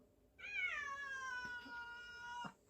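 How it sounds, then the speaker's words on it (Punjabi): A single drawn-out cat meow, close and clear, lasting about two seconds against a quiet background. "ਮਾਣੋ ਬਿੱਲੀ ਤਾਂ ਸਾਜਰੇ ਸਾਜਰੀ ਆਵਾਜ਼ਾਂ ਮਾਰਨ ਲੱਗ ਜਾਂਦੀ ਆ"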